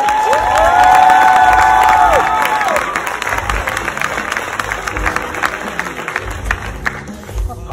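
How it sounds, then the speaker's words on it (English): A theater audience at a stage play applauds and cheers loudly, with a few sharp whoops early on, and the clapping and crowd noise slowly thin out. "give it up one more time for this amazing crowd"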